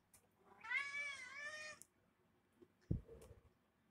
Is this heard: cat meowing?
yes